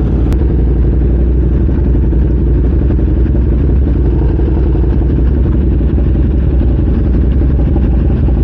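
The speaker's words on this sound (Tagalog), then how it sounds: "So motor natin yung pinakamaingay" A KTM SuperDuke motorcycle idles in a garage with a loud, steady, rough engine rumble and mechanical clatter that runs unbroken throughout.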